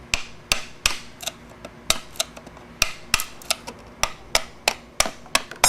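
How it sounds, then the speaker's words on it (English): A screwdriver is tapped to drive a part out of a Ford Crown Victoria radiator fan motor, giving a regular series of sharp, bright metallic clicks, close and distinct, with no talk. "you need an extra screwdriver so you can actually tap it back through"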